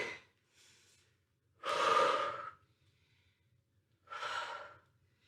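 A person breathing through a yoga-style exercise, with close, audible breaths: a faint short one, then a long strong exhale, a quiet pause and another firm breath.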